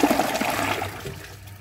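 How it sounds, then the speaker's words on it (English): A Kohler Elliston toilet with a clogged rim jet flushes loudly up close, a strong rushing gush of water that tapers into a draining trickle over under two seconds. "Now let's see how it flushes with a clogged rim jet."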